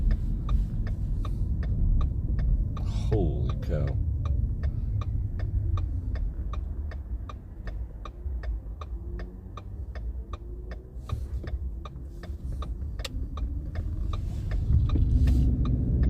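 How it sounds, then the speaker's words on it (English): Las Vegas road traffic heard from inside a moving car: a steady low engine and road rumble runs throughout with a regular ticking turn signal, and a man briefly exclaims. "this traffic suddenly got insane"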